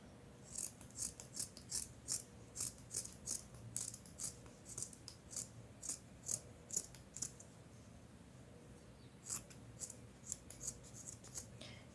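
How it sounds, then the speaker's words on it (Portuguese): Scissors snipping excess fabric from a sewn stuffed alligator toy, a steady series of soft close cuts with faint rubbing of cloth between them, quiet and without talk. "Vou recortar aqui o excesso"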